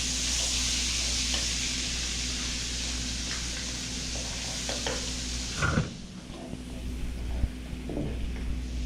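Garlic and onion sauté in Star margarine: a steady bright sizzle that runs for several seconds, then breaks into a few clattering stirs of the pan toward the end.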